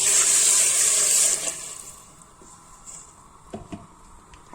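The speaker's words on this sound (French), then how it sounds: "on va rajouter de l'eau" Water pours steadily into a cooking pot while a traditional Constantine trida stew is being made, a loud, bright rushing stream for about a second and a half before it stops, followed by faint clinks and handling noises.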